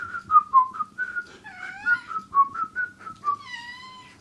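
A person whistles a quick, lilting tune of short chirpy notes and upward slides, clear and close with no talking over it.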